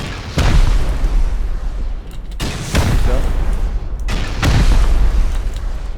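Rocket explosions in the video game Rust, three heavy booming blasts spaced about two seconds apart, loud and close, each with a rolling rumble, with voices talking underneath.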